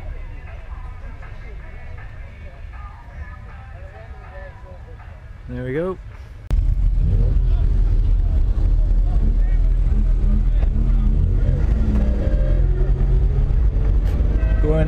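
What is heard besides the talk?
classic Mini car engine running and driving off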